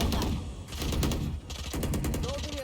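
Gunfire rattles in rapid bursts during a competitive Valorant match, with dense shots near and loud and a brief pause between volleys, while game effects play underneath.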